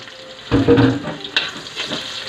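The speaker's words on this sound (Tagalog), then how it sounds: "Gisa na tayo ng sibuyas bawang mga kaidol." Onion and garlic sautéed in a pan for a Hiligaynon-style native chicken estopado, a short burst of sizzling and frying as they hit the hot oil, then softer crackle with light stirring.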